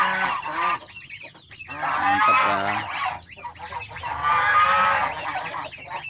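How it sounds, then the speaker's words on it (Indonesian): Bengal geese honk loudly in repeated bursts nearby, harsh and nasal, with a brief spoken remark between the calls. "Sowang benggala ini jantannya 1, terus 4 ekor betina"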